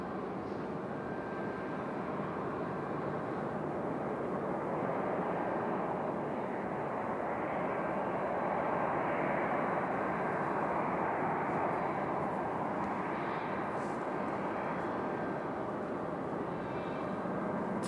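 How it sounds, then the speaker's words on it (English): An Airbus A319 airliner takes off at Raleigh-Durham airport, a broad steady engine roar that swells slightly in the middle, heard from a distance with no talk. "Here's our A319 off to Philadelphia."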